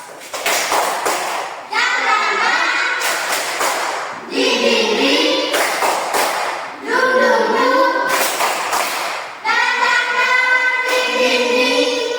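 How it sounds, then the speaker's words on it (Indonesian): A classroom of Indonesian students performs a rhythmic spirit clap, bursts of clapping alternating with chanted group voices in a repeating pattern, loud and close, with children's voices between the rounds. "masih semangat? Masih! Tepuk semangat!"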